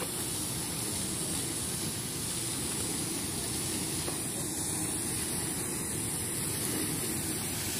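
An outdoor water fountain runs steadily, a continuous hissing splash of falling water that holds at an even level throughout, with no talking over it.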